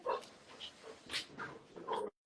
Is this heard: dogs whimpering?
yes